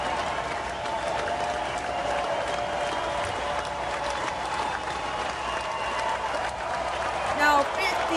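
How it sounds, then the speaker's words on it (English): A crowd at the Stellar Aerospace headquarters cheers and applauds continuously through a rocket launch, a dense wash of clapping and voices at steady volume with a brief louder swell near the end. "Cheering here at the Stellar Aerospace headquarters."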